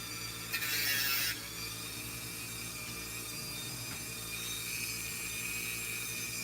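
A rotary tool grinds on a small wire held in a piece of brass tubing, giving a short high-pitched whine near the start and then a steady mechanical hum with faint ticks.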